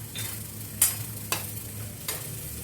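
A soy sauce mixture fries in a pan, with a soft continuous sizzle and three sharp scraping stirs or taps against the pan at roughly half-second to second intervals. No one speaks.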